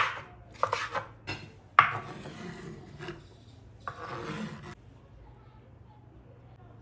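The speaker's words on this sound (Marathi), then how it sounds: "तर यातले मी 2 टोमॅटो हे अशा प्रकारे बारीक कट करते" Two tomatoes are chopped finely with a knife, giving a run of sharp, irregular knife taps on a board over steady low background hum.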